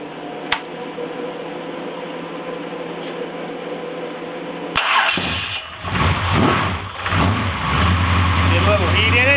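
A 383 small block Chevy with MagnaFlow mufflers hums at a steady drone, then cranks and fires up with a sharp catch, settling into a loud, lumpy idle with a few revs.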